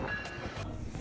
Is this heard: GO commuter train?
yes